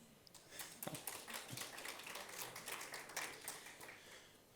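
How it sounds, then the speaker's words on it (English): Audience applause at a business services conference panel in Bosnia and Herzegovina, a steady patter of many hands clapping at moderate distance, fairly faint and sustained for several seconds without a clear break. "One round of applause, please."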